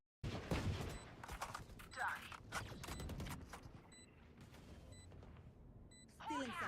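Gunfire in a shooter video game firefight, rapid bursts of shots and sharp cracks spread across a few seconds, fairly quiet and mixed under talk and game sounds.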